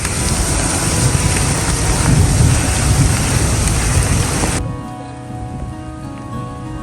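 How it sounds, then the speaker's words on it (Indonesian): Heavy rain falls steadily in a dense, loud wash at a shelter post on a foggy mountain trail. The roar continues without a break, then drops abruptly to a quieter, thinner hiss. "Kondisinya hujan besar, lumayan deras dan kabut."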